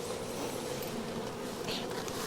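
A honeybee swarm hums in a dense, continuous buzz of many bees at close range, steady and loud throughout with no voices.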